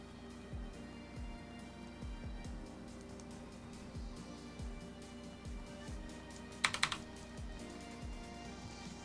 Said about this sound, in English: Typing faster than ever.